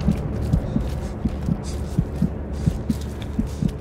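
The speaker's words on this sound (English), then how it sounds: "my heartbeat is going faster." Heartbeat effect in the Heroes & Generals video game, a steady run of soft, low thumps spaced about half a second apart over a constant background hum, with no talking.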